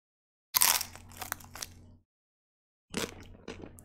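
Crunchy crispy taco shell from Burger King bitten close up, two sharp crackling crunches separated by a pause, each followed by fainter crumbling.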